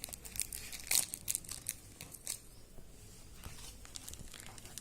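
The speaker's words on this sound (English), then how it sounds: "I've cut the tape. We'll open it now." A taped package holding sodium metal is opened, with close, faint crinkling and tearing of packaging in a few short bursts, then quieter rustling.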